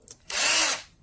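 A pink DEKOPRO 12 V cordless drill whirs at speed for about half a second after a faint click, a steady high-pitched motor whine close to the mic that spins down quickly.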